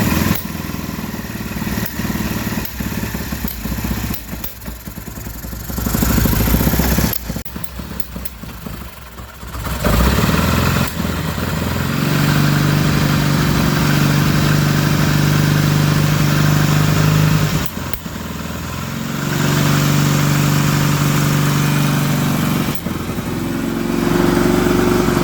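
1962 Triumph Speed Twin Bathtub motorcycle running just after its first kick start in years: a loud, close, steady twin-cylinder idle with throttle blips and revving swells, continuous throughout.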